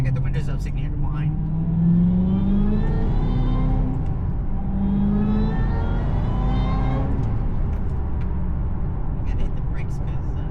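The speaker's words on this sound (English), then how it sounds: "let's get a little supercharger whine back here, see what happens" A 2007 Shelby GT500 SVT Mustang drives with its windows up, its steady engine rumble rising and falling as it accelerates, with a supercharger whine running over the top and someone talking throughout.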